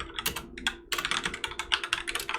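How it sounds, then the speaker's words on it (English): Rapid, uneven clicking of keys on a computer keyboard as code is typed in, close and clear with no talking. "we're going to start typing it in"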